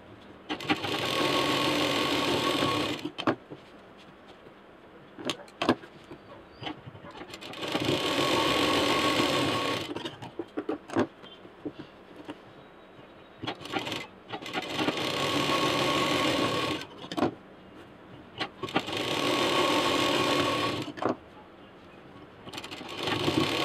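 Sewing machine stitching the folded edge of a fabric tiffin case, running in four long steady bursts separated by short pauses with small handling clicks and rustles, close and fairly loud, no talking.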